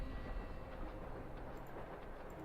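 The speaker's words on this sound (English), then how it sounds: "Those freight trains pass by at least once every 5 minutes all day long." Freight train rolling past in The Longest Journey video game, a dense continuous rumble with faint rattling, steady and fairly close throughout.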